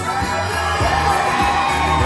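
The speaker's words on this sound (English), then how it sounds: "Give us a cheer." An audience at a holiday park show cheers and whoops continuously, a dense roar of many voices with children shouting, loud and close throughout.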